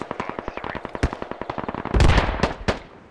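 Video game gunfire in Squad Ops as RPGs land in a compound: rapid bursts of sharp rifle and machine-gun shots, loud and close, with a heavier blast and rumble of an RPG impact midway.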